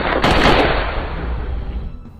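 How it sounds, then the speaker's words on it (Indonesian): Gunfire in a film scene: a loud burst of rapid shots at the start that fades into a decaying echo and rumble, with no voices. "dari serangan barusan, Hobun harus mengalami luka tembak yang cukup serius di bagian pahanya"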